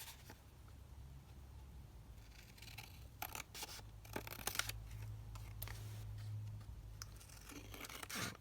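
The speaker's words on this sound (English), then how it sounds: "then we're just going to take our scissors and cut them down" Quiet snipping and crinkling of scissors cutting through stiff paper junk journal cards, a few sharp clusters of cuts amid soft rustling, close and faint.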